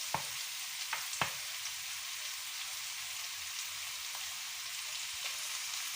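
Homemade noodles being stirred and fried in a pan until browned, with a soft continuous sizzle and a couple of sharp utensil taps early on, quiet and close.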